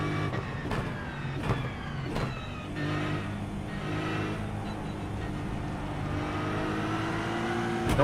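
A bus engine in the iRacing sim racing game drones and revs, gear changes and shifting pitch sweeping up and down through a steady, loud, continuous motor sound.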